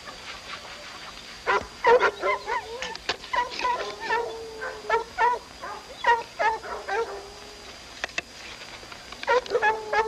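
Several dogs barking and yipping in short excited bursts at a moderate distance, with a steady faint hum underneath.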